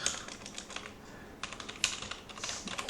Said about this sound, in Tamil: டைப் பண்ணி பார்ப்போம்